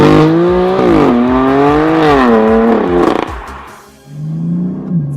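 A BMW M4's turbocharged engine accelerates hard close up, its loud rising tone climbing through gears with brief dips between upshifts before easing off and then building again.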